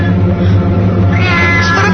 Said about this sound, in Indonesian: suara kucing itu masih terdengar dari dalam kamarku.